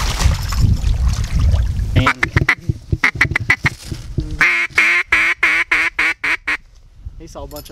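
A mallard hen quacks in a rapid run of loud, close calls that rises and then trails off, following a stretch of outdoor noise during a duck hunt in a creek setting.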